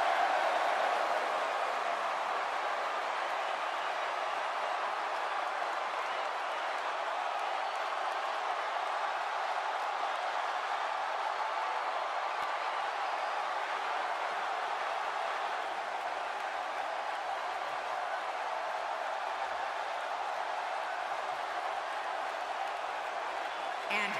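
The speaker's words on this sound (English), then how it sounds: "Clearly, this SmackDown crowd can't wait for this one to get started." A steady, dense roar from the crowd in the SmackDown arena of the wrestling video game WWE 2K17, cheering continuously throughout at a constant level.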